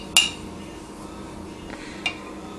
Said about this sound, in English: Stir it up good. Stir to the bottom. Got to get to the bottom. Put your spoon in the bottom.